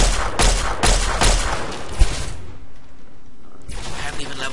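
Pistol gunfire in Fallout 3, with several sharp, rapid shots in the first two seconds, then quieter game ambience and a faint mechanical sound near the end.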